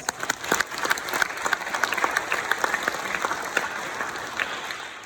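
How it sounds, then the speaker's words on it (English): Audience applause for event directors at the opening of a 2020 Frisco Ignite gathering, a steady wash of many hands clapping that holds evenly for several seconds with scattered sharper claps on top. "please give them a huge round of applause"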